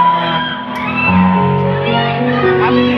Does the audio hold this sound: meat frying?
no